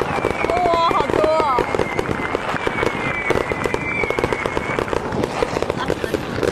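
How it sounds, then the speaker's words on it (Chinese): Firecrackers and fireworks go off on New Year's Eve in a dense, continuous stream of crackling pops and bangs, with voices and excited exclamations heard in the background. "好像放鞭炮是吧？"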